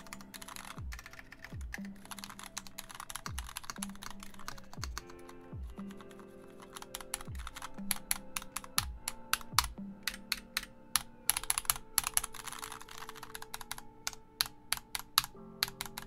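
Mechanical keyboard with black and cream switches being typed on in a Dvorak layout, steady clacking keystrokes that grow denser and louder toward the end, close up, with no talk.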